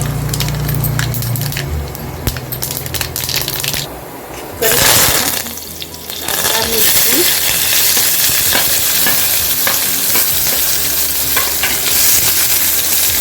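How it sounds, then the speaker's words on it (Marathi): Mustard seeds dropped into hot oil in a pot on a gas stove crackle and sizzle loudly and steadily, with a brief burst of stirring and clatter midway, heard up close without talk. "गॅसवर एक भांडं ठेवलं आहे त्याच्यात तेल घालून घेतले थोडं राई टाकते"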